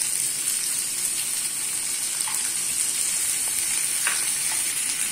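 Curry leaves fry in hot oil for a Tamil mutton kuzhambu, a continuous close hiss and crackle of sizzling with a few faint stirring touches and no talk.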